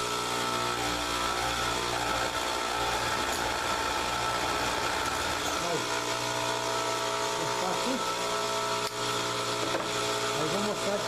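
A homemade wire fencing machine runs with a continuous, even motor hum and mechanical drone throughout, steady and moderately loud, with faint voices now and then under the noise.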